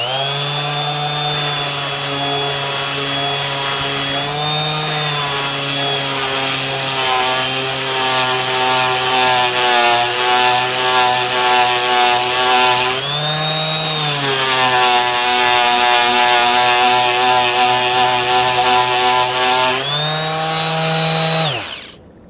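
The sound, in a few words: TACKLIFE mouse detail sander sanding wood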